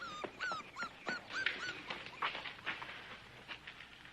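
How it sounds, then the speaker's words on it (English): Puppy whimpering and yipping in high, rising whines, several short cries in quick succession, close and moderately loud against a quiet indoor background. "puppy!"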